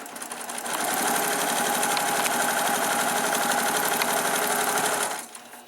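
An electric sewing machine stitches quilt pieces in one steady, rapid mechanical run, close and clear, starting up and winding down after about five seconds.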